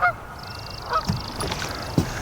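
A Canada goose near a nest honks loudly at close range, a few sharp calls spread over two seconds with no talking.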